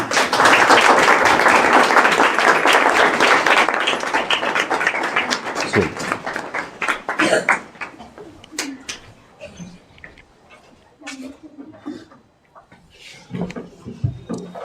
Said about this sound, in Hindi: आप लोग सभी ताली बजा दीजिए।